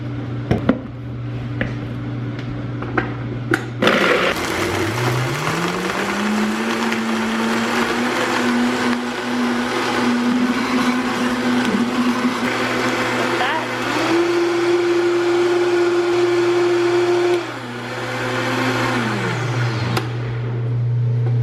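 A blender whirs through coffee frappe ingredients, its motor starting abruptly, rising in pitch as it spins up and holding a steady, loud drone with a brief step higher before winding down, under a constant low hum.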